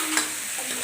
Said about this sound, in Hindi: इधर ना दाल फ्राई कर रही है, भतुआ डाल करके दाल फ्राई